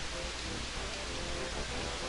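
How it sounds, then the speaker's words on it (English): Steady, dense rain hiss from the video game Super Mario RPG fills the clip evenly, a constant wash of falling water with no voices or breaks. "now that it is raining"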